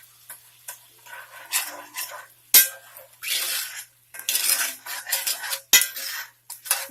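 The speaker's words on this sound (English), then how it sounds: "A little bit of almond milk. Stir, stir, stir." Almond milk being stirred into caramel sauce, heard as a spoon clinking and scraping against a pot in irregular bursts, with sharp metallic taps and a faint sizzle between them. The sounds are close and there is no talking.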